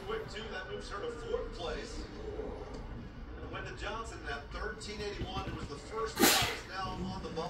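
A single sharp sneeze bursts out near the end during a rodeo barrel-racing broadcast, over steady commentary and arena crowd murmur.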